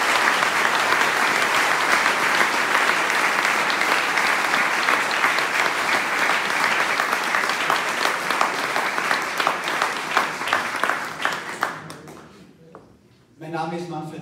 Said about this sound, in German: begrüßen Sie mit mir mit einem tosenden Applaus, Professor Liessmann